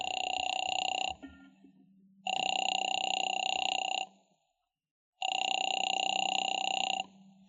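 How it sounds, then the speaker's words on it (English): A telephone rings in an old radio drama, three long electric bell rings separated by pauses, loud and close with a faint hum between rings. "Phone seemed to ring forever"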